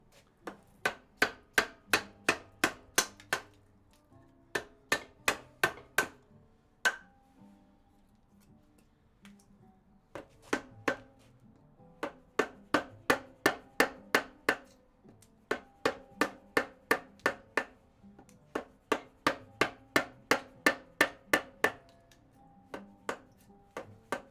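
Steel chisel driven by a mallet into wood during Maori whakairo carving, sharp knocks in fast rhythmic bursts of about eight to twelve strikes with short pauses between, close and crisp.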